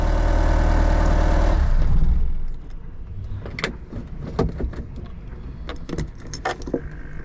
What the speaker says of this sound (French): Je vais couper le moteur.